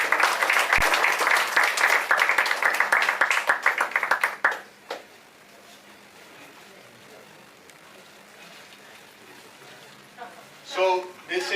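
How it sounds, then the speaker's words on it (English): An audience applauds Anuradha, a sarpanch from Kolkulpalli village, at a lecture on democracy and decentralisation. Dense, steady clapping lasts about four seconds, then stops abruptly into a quiet hall with faint room noise and a brief soft sound near the end. "So a big applause to Anuradha."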